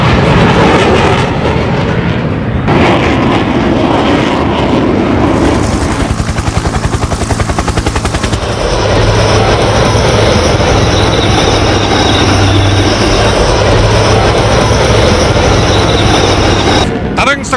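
Tejas, Rafale and Sukhoi-30 fighter jets flying during the Tarang Shakti 2024 air exercise at Sulur, a very loud, close, continuous engine roar that shifts in tone as the aircraft pass.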